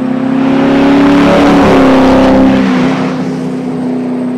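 A Corvette exhaust revving loudly with a raw, rumbling tone, engine note rising and holding before easing slightly toward the end.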